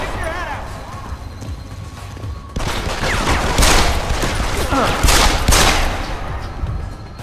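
Gunfire in the Deus Ex: Human Revolution video game: a steady background of combat noise breaks into loud, rapid bursts of shots, with voices mixed in.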